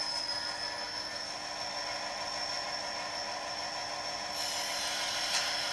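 A Bachmann class 57 model locomotive, number 57009, runs on a test track, giving a steady faint mechanical whir with a thin high whine that holds even and continuous throughout.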